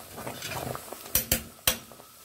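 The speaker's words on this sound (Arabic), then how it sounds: "احنا معانا هنا الكشك كده على النار نقلبه" Spoon scraping and clinking in a pot as Egyptian kishk is stirred over the stove, with soft shuffling followed by three sharp metallic knocks and no talking.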